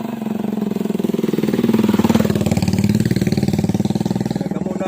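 A motorcycle engine runs close by with a steady, rapid pulsing putter, loud and even throughout, rising slightly in intensity around the middle before settling back.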